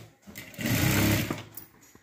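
A sewing machine stitches a blouse hook strip in one short, close whirring burst lasting about a second.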